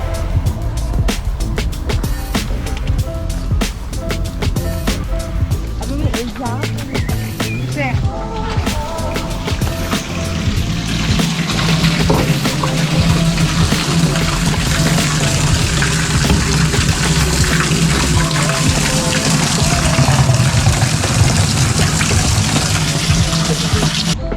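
Steady running water pours and splashes continuously as containers are filled at a roadside spring, with voices talking nearby and a car idling in the background.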